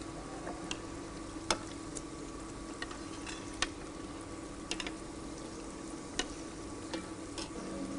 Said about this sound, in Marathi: आपला मालपुआ फ्राय होतोय, रेडी होतोय हळूहळू.